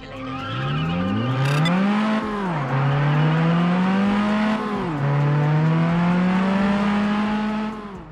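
Racing car engine in Test Drive Unlimited, revving loud and close, climbing through gears with pitch sweeps and drops at each shift, tires squealing along the way.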